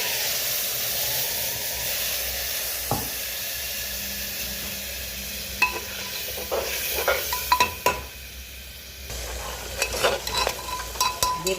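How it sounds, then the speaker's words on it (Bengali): A wet paste of tomato, green chili and ginger fries in a pan, hissing and steaming steadily as a spatula stirs and scrapes it in irregular clinks and scratches. The sound is close, and there is no talk. "এবার আমি যে টমেটো, কাঁচা লঙ্কা আর আদা বেটে রেখেছি এটা দিয়ে দেবো।"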